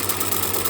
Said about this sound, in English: We're going to turn the hand wheel, needle down, lift up, turn round.